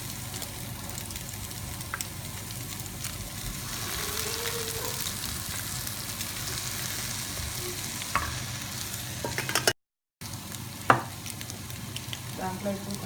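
Boiled pasta tossed and stirred in an oiled frying pan gives a soft, steady sizzle. Occasional spatula scrapes and clacks come near the end, with a brief silent gap, at a moderate, close level.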